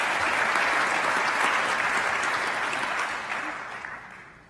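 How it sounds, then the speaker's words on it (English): Sustained applause from a conference audience at a social enterprise plenary session, loud and dense at first, then gradually thinning and fading toward the end with no talk over it. "Let's give them another round of applause,"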